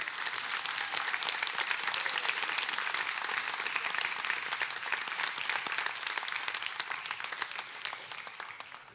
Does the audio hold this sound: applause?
yes